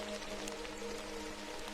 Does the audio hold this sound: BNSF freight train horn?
no